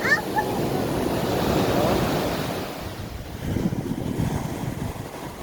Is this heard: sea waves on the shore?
yes